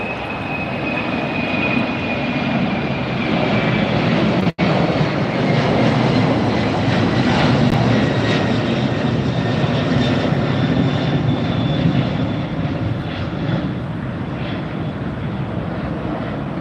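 A jumbo jet takes off at LAX, its engines a loud, steady broadband roar that holds from start to finish, with one sharp click partway through and no talking.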